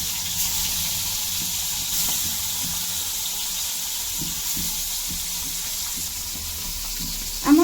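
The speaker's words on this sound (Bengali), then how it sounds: "কড়াইয়ে তেলও দিয়ে দিয়েছি তো এখন মাছগুলো দিয়ে দিব" Oil heating in a kadai before singi fish go in gives a steady broadband hiss throughout, with faint knocks and a sharper clink at the very end.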